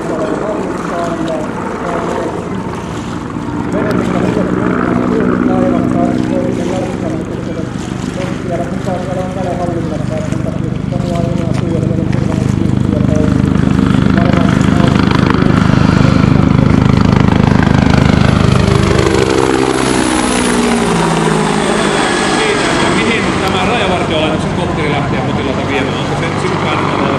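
Rescue helicopter flying overhead during a rescue demonstration, its loud rotor and engine noise rising and holding steady before fading away, with people talking beneath it.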